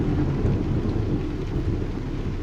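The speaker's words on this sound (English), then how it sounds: "let's turn the lights on because it's raining" Steady heavy rain and a low rolling rumble of thunder fill the American Truck Simulator game scene, a dense continuous wash of sound with no speech over it.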